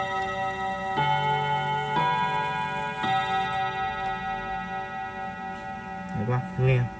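A wind-up clock gives three resonant chiming strikes a second apart that ring on and slowly fade, close and clear in a quiet room, followed by a brief muffled rustle near the end.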